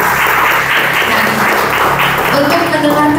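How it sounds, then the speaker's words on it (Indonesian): Audience applause at an Indonesian university talk on students' mental preparation for thesis defense, a steady dense clapping that fills the whole stretch at a loud level. "Beri tepuk tangan dulu untuk Ibu."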